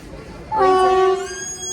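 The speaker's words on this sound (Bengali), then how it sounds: "আমাদের ট্রেন চলে এসেছে," A train sounds a loud, sustained horn blast for about half a second, ringing clearly over quiet rail background noise.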